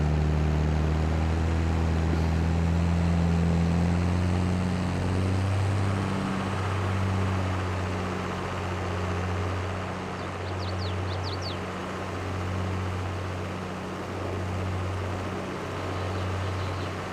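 Steady low drone of a John Deere 4755 tractor engine in Farming Simulator 22, with a deep harmonic hum, droning continuously and shifting slightly in pitch, fairly loud and close, with no talking.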